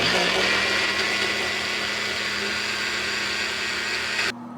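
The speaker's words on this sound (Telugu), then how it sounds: "ధనియాలు, జీలకర్ర, వెల్లుల్లి, టమాటా, మిరప్పొడి అవును వేసి మిక్సీ వేయడం" A kitchen mixer grinder runs steadily, grinding tomato chutney with coriander seeds, cumin, garlic and chilli powder. The loud, even motor whir continues for about four seconds, then cuts off abruptly.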